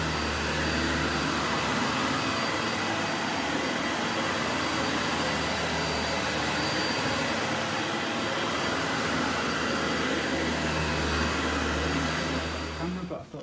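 Steady roar of a Dyson Light Ball Animal vacuum cleaner left running in a house, constant whooshing motor noise that holds even, then drops away abruptly at the very end.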